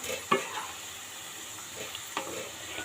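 Chicken frying in a pan gives a quiet, steady sizzle, with a few soft scrapes and taps of a spoon as it is stirred.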